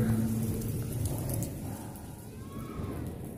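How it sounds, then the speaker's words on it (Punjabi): Steady, continuous rainfall pouring down on surfaces in Barnala, Punjab, a dense hiss with a low rumble underneath and no talking. "ਇਸ ਟਾਈਮ ਜੋ ਕਿ ਲਗਾਤਾਰ ਬਰਸਾਤ ਹੋ ਰਹੀ ਹੈ"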